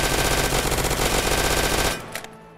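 Rapid automatic gunfire fills a Roblox shooter game, a loud continuous rattle of shots that stops short at about two seconds. A few faint clicks follow, and nobody speaks.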